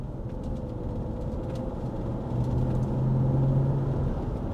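A Volkswagen Touareg TDI with a simple ECU tune accelerates from about 40 toward 60 mph, its steady low diesel drone and road rumble rising gradually in level as speed builds, heard from inside the cabin.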